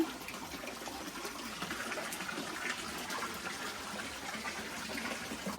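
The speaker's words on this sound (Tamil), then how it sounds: "தண்ணி வந்து கொண்டிருக்குது" Water runs and splashes steadily into a fish tank, a continuous close gushing sound with no talking.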